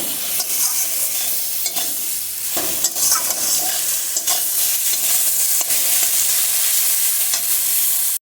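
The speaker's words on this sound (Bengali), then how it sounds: "শাকটাকে একটু ভাজা ভাজা করে নিচ্ছি।" Red amaranth greens and pumpkin stir-frying in a wok, a continuous close sizzle broken by repeated scrapes and knocks of a spatula stirring the vegetables, with no talking.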